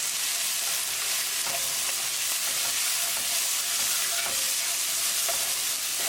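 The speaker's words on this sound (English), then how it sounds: "Cook spices along with tadka for 1 minute" Ground spices (salt, Kashmiri chilli, cumin, coriander and turmeric powders) cook in a tadka in a pan with a dense, steady sizzle and faint scraping stirs throughout.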